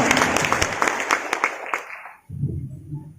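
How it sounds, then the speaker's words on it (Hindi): Crowd applause at a business-plan seminar for a network marketing company, a dense burst of many hands clapping that stops abruptly, followed by a low murmur of voices. "एक जोरदार ताली होनी चाहिए।"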